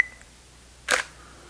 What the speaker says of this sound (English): I'm going to take a picture in complete darkness